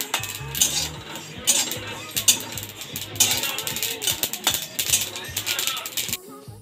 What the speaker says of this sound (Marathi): ते पण भाजून घेते